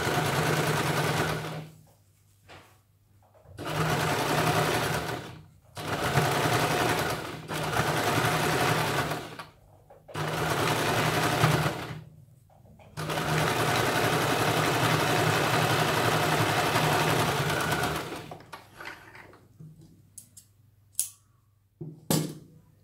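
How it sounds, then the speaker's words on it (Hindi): An electric sewing machine stitches a princess cut blouse in several loud, steady bursts of fast whirring, each a few seconds long with short pauses between, followed by softer clicks and handling. "और इसके ऊपर हमें ये सिलाई लगानी है।"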